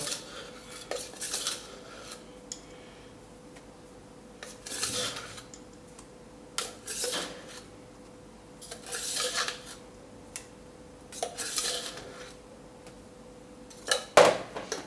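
Vanilla cake batter with five teaspoons of baking powder being stirred in a bowl, with repeated scraping clinks of a utensil against the sides in irregular bursts, close and fairly loud, with no voices.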